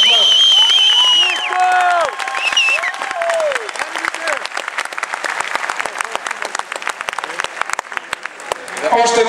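At a Fight Spirit gala evening, the crowd applauds two low-kick fighters in the 71 kg category while music with sustained tones plays at first, then scattered dense clapping carries on loudly with voices mixed in.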